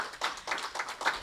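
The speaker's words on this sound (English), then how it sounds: "Everyone, another round of applause for Bill." Audience applause after a talk in an indoor gathering, heard as short bursts of clapping in a quick rhythm, moderately close and fairly faint.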